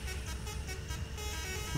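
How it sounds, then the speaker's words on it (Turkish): A bus horn honking in a bus simulator video game, a sustained toot blending with a low engine drone, moderately loud and steady without speech. "Kornası güzel adam ya"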